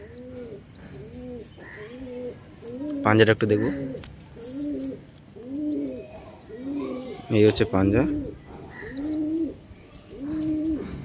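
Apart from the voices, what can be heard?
pigeons cooing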